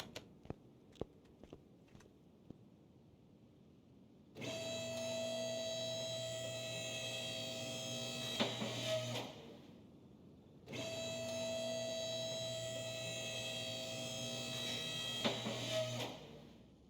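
Electric car lift in Car Mechanic Simulator 21 raising a BMW M3, a steady motor whine running twice for about five seconds each, ending in a clunk, after a few sharp clicks at the start.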